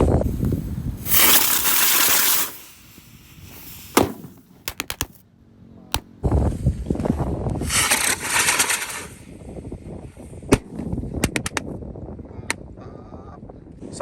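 Ski cruiser firework burning after being lit, two long loud hissing, whooshing bursts with sharp cracks and pops between and after them, heard outdoors at close range.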